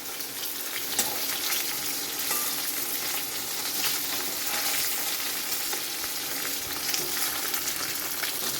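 Koi fish frying in hot oil for a Bengali tel-koi dish, a dense steady sizzle with crackling pops throughout, close and fairly loud, with no talking.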